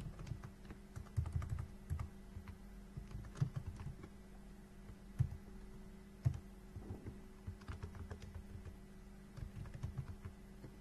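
Steady keyboard typing on a computer while entering an accounting transaction in TallyPrime, with quick irregular key clicks and a few sharper taps over a low hum, close and moderately quiet, no voices.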